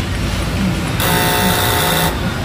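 A steady electrical whine with a high tonal hum that kicks in partway through, running continuously over a constant mechanical drone before easing off near the end; a 90-amp alternator with intact diodes on a Toyota Revo gasoline engine.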